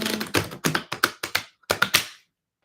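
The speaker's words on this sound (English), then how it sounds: "Maybe one more shuffle." Tarot cards are shuffled in a quick run of about ten crisp, close riffling bursts that stop abruptly just past two seconds.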